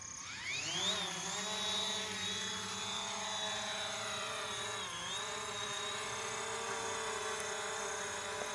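A mini long-range drone takes off. Its motors spool up quickly into a high, steady buzzing whine that stays loud and close, with small dips in pitch as it climbs.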